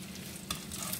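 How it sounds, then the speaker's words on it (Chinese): Shrimp cakes pan-frying slowly over low heat give a steady, even sizzle that runs throughout, with a brief brighter crackle midway and no voices. "咱用小火，用小火慢煎"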